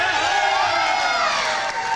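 A crowd at a GLCW wrestling event cheers loudly and steadily for the length of the moment, many voices blending into a continuous roar of shouts.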